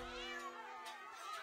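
A cat meows in South Park: The Stick of Truth, a short in-game cry over a busy backdrop of game music and sound effects.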